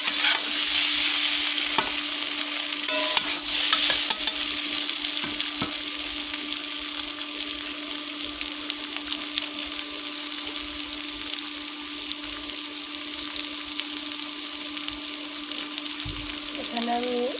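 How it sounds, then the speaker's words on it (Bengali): Vegetables frying with ginger-cumin paste in a pan while cooking a fish dish, a steady close sizzle with stirring scrapes throughout, continuous and fairly loud. "তরকারিগুলো লাল লাল করে ভেজে নেওয়ার পরে আদা জিরা বাটা দিয়ে ভালো করে কষিয়ে নেব।"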